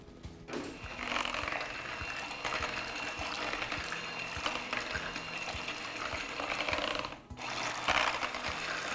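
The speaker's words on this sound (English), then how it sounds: "And I'm gonna give it a nice whisking." Mashed potatoes with butter are whisked in a bowl, making a fast, steady, rhythmic scraping and clicking for about nine seconds with one brief pause.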